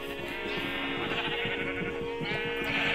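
Sheep bleat repeatedly on a Minecraft farm of rainbow-colored sheep, the video game's blocky livestock calls overlapping steadily at a moderate, close level with no talk.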